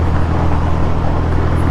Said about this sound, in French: Tu entends les bruits que ça fait les voitures là qui passent sur les rainures.